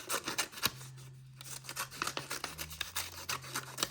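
Scissors cut through cardboard for a homemade Spinosaurus figure, making a close, steady series of crunching snips and rasping cuts.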